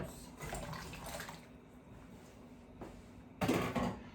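Potatoes are dropped into a pot of boiling water, with soft splashing and rolling bubbling, then a sharper splash and clatter near the end, close by and fairly quiet.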